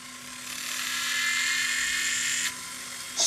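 A jewellery handpiece spins up a small round burr, giving a thin, high-pitched whine that climbs and holds steady for a few seconds before dropping off abruptly, then briefly restarting.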